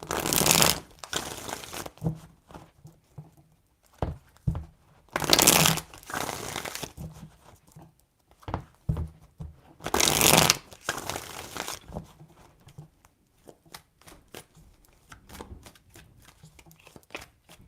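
Tarot cards riffled in several quick bursts with soft papery flutters, pauses in between, and small taps and shuffles around them.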